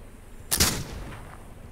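A single Palmer Fury rifle shot fired while hunting in a video game, a sharp loud crack at about half a second that fades into a short rolling echo, with no talk.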